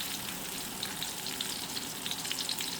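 Pork with plenty of chili sizzles in a hot pan while being stir-fried, a steady close crackle with small pops scattered through it, no talking.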